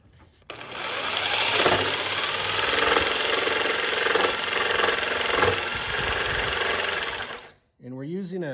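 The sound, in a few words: power saw with fine tip blade cutting wood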